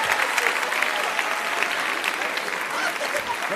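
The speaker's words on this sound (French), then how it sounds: "On peut l'applaudir aussi." An audience at an evening event claps loudly and continuously, a dense wash of applause from a crowd filling the room without a break.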